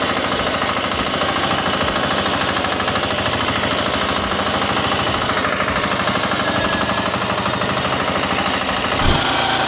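A Firman rotary tiller engine runs continuously while working a peat field, a loud steady mechanical drone with rhythmic knocking throughout.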